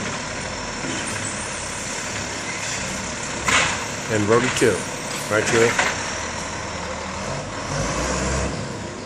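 A garbage truck's engine runs at idle in a driveway, a steady low rumble under a person talking, with a few louder bursts midway.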